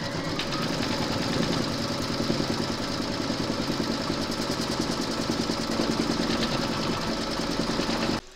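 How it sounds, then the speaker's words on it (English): An embroidery machine stitching down applique fabric for a large parrot design in a hoop, a loud steady mechanical whir with rapid regular needle pulses running continuously until it stops abruptly at the end. "Pop your hoop into your machine and stitch round number four to secure them"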